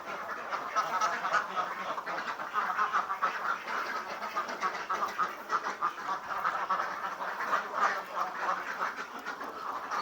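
Laying ducks in a duck pen give off a dense, continuous chorus of quacking, a loud, busy flock heard steadily throughout without talk.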